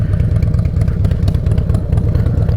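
Motorcycle engine idling and rumbling while parking, a close, loud, steady low throb with light mechanical clatter and small rises in revs, no talking.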